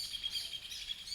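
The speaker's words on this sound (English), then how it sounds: "There's some birds singing." Small birds sing and chirp steadily outdoors, a continuous bright twittering at moderate distance with no voices.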